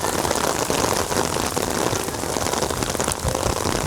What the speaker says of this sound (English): The storm is on, it's here, and it is pouring rain.